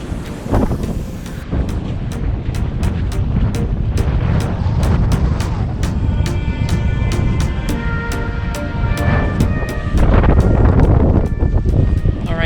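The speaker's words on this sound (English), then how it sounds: "The wind is blowing hard." Strong wind blows outdoors on a chilly morning walk at the Lincoln City coast, a loud steady roar buffeting the microphone, with faint sharp clicks running through it.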